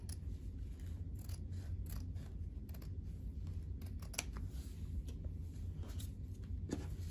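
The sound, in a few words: scissors trimming fabric and ribbon near embroidery stitches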